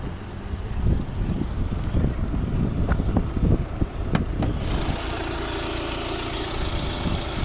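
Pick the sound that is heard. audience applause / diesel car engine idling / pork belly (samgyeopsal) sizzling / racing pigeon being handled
diesel car engine idling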